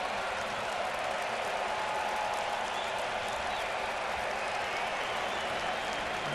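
A baseball stadium crowd at a Yankees vs Blue Jays game applauds and cheers in a dense, continuous wash of clapping that holds steady from start to finish.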